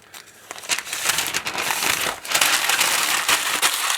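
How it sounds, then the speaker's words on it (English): Newspaper being pulled out from underneath a plaster cloth model railway scenery shell and crumpled, with loud, continuous crinkling and crushing of paper close by. "I can reach in underneath and pull all the newspaper out"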